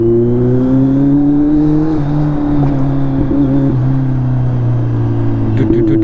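A Kawasaki Z900 motorcycle engine revving in city traffic, a loud, close steady drone with pitch shifts as gears change, a voice talking over it.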